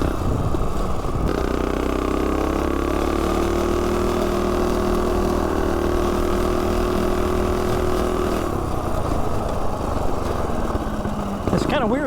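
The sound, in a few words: Coleman CT200U-EX mini bike engine running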